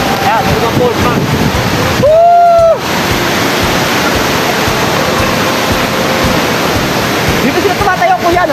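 Hulugan Falls, a waterfall reached on a trek, roars as a loud, continuous broadband rush throughout, with people talking briefly over it.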